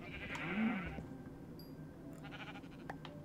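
A Minecraft cow lets out a single low, drawn-out moo near the start, followed by quieter game sounds and small clicks.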